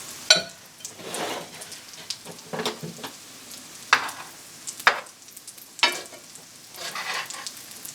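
Cornbread hoecakes fry in bacon grease and olive oil, a close, crackling sizzle punctuated by sharp spatula scrapes and clanks at irregular intervals.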